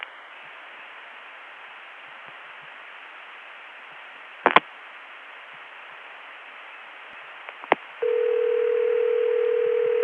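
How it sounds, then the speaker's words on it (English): Telephone line on the ConTelNet CCSA network during dialing, with a steady hiss, two sharp clicks, and then a continuous tone that starts near the end and holds steady. "Now I'll dial another digit"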